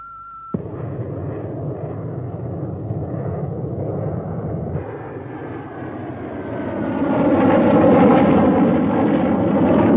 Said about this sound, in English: Aircraft approaching the island.